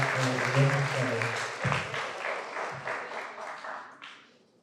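Audience applause at a French-language university teaching ceremony after a gift is presented, dense clapping over low voices and background talk, thinning and fading toward the end.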